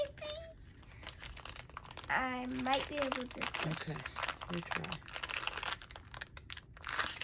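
Plastic packaging crinkles and crackles in short handled bursts, close by, while a child and an adult talk over it.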